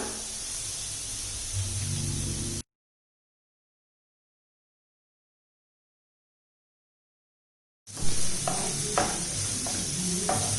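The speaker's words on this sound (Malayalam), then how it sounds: "നമുക്കിതിലേക്കിട്ട് നല്ലപോലെ ഒന്ന് വഴറ്റാം. ഇത് പെട്ടെന്ന് വഴണ്ട് വരാൻ ആവശ്യത്തിന് ഉപ്പും ചേർത്ത് കൊടുക്കാം." Onions with salt sautéing in a pan for a crab roast, a steady close sizzle with stirring scrapes, cut by a long stretch of silence in the middle before the frying and spatula knocks return.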